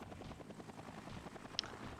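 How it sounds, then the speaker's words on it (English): A helicopter in the video game Planet Rocktopia gives a steady, moderately faint rotor drone with a soft rhythmic pulse, and a single sharp click cuts through near the end. "I'll pull out a helicopter"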